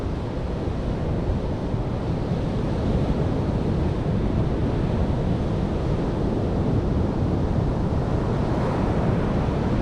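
Sea waves roll onto Easington Beach as a continuous loud wash of surf, mixed with heavy wind buffeting the microphone and no voices.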